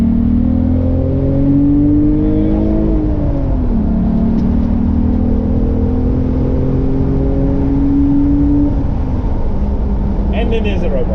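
A VR6 car engine revs loudly up close, its pitch rising, dropping briefly, then climbing again in a long sustained roar before easing off.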